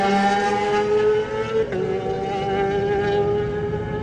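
A Kawasaki supersport race motorcycle at the TT pulls away from the start, its engine screaming in a high, rising whine that drops briefly at a gear change and climbs again, loud and close.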